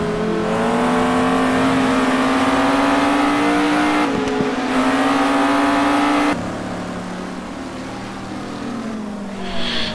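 GT2 race cars, a McLaren among them, race at Laguna Seca, with a loud, steady engine drone holding a high pitch, shifting gears, then fading to a lower roar as the cars pass on.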